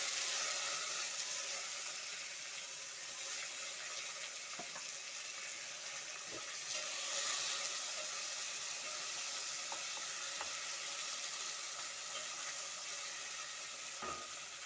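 Onions fry with mutton in a pan in a traditional kitchen, producing a soft, continuous sizzle with occasional faint knocks of stirring and no talking.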